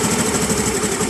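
A 2012 Honda Activa scooter engine idles steadily up close during RPM adjustment, a continuous even mechanical hum with a light rhythmic chatter and no talking.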